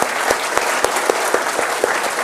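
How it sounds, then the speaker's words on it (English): Audience of young people applauding at a show, a dense steady wash of clapping with a few sharper individual claps standing out at regular intervals. "So, big round of applause."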